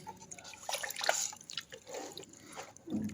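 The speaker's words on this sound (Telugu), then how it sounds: "బాగా కలపాలి." Fish curry is stirred together with thick tamarind juice, producing soft, irregular wet sloshing and dripping sounds close by, with brief pauses between movements.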